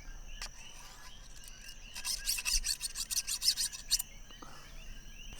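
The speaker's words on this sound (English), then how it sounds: "So you just keep rubbing that oil and getting that latex off with the oil" Oil being rubbed along a knife blade to clear sticky jackfruit latex gives a soft, close scraping rasp in a quick run of short strokes, fairly faint, with no one talking.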